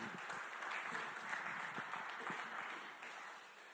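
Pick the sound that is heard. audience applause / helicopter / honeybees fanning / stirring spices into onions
audience applause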